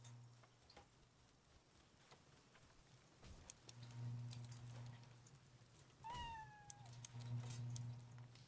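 A cat meows in the Palworld video game, with one clear rising-then-falling meow near the end over a steady low game hum and soft ticking ambience.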